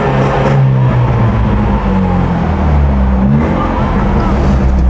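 A Mercedes W202 engine revs hard as the driver accelerates, a loud, steady low roar that holds throughout with no pauses.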